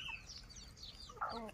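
Chickens on a black chicken farm cluck faintly in a quiet pen, a few soft scattered calls with one brief, clearer clucking burst near the end.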